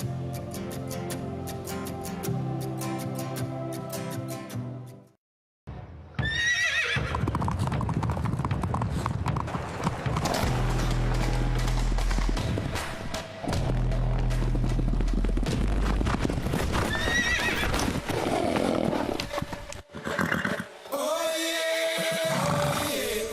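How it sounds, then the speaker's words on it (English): Horses gallop in a race for a betting advert, with loud, rapid hoofbeats and whinnies over music following a brief silence, then continuing steadily. "And they're off. 10-bet horse racing."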